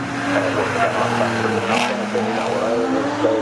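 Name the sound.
3-litre BMW M3 racing saloon accelerating on the straight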